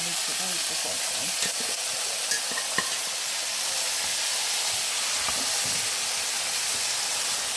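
Steady sizzling and hiss of onions frying in a pan for mutton curry, with occasional faint clinks of stirring; no talking.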